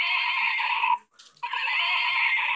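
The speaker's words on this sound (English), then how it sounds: "once you put her head down, she neighs 3 times" A toy horse neighs when its head is pressed down. Two loud, high, buzzing whinnies are separated by a brief gap, each close and steady in pitch.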